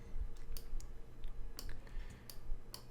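A computer keyboard clicks with a few scattered, light key presses, irregular single taps close by but quiet, over a low room hum with no talking.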